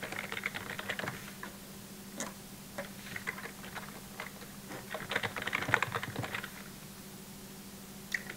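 Quick, irregular keystrokes on a computer keyboard as a password is typed, clustered in bursts of clicks over a steady low hum, fairly close and moderately quiet, with no talking.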